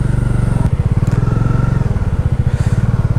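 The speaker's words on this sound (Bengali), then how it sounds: "এবার কিন্তু স্লিপ কাটছে আমার বাইক।" A motorbike rides along a slippery forest road on the way to a camping site, its engine chugging loudly and steadily the whole time in a close, continuous rumble.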